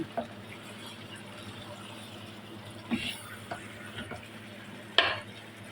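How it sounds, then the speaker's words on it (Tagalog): Chicken in sauce stirred in a pot gives a low background bubble with a few distinct scrapes and clinks of a utensil against the pot, the sharpest near the end. "Haluin natin guys."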